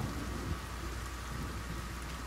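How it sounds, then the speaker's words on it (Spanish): Steady rain pours down in The Forest video game, a dense, even hiss close around the listener, with a low rumble of thunder beneath it and no talking. "Ay, está lloviendo."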